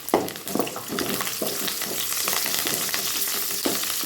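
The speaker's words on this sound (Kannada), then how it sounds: "ಬೆಳ್ಳುಳ್ಳಿನ ಅದು ಸ್ವಲ್ಪ ಗೋಲ್ಡನ್ ಬ್ರೌನಿಷ್ ಕಲರ್ ಬರೋವರೆಗೂ ಫ್ರೈ ಮಾಡಬೇಕು" Garlic frying in oil until golden brown for a spicy khara boondi snack: a steady, close sizzle with repeated scrapes and taps from stirring, no voices.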